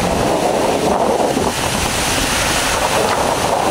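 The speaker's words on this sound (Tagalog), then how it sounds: "Grabe lakas ng hangin." Strong wind blows at a campsite, buffeting the microphone in a loud, continuous roar with gusty surges and no pause.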